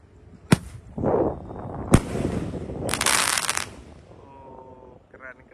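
A Roman candle firecracker set off under an inverted water gallon bursts with sharp loud pops and crackling blasts, spaced irregularly, followed by hissing and rattling debris.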